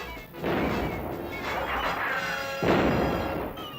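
Cartoon cannons and guns fire without pause, a dense, loud barrage of booms and crashes with heavier blasts at the start and again near the end.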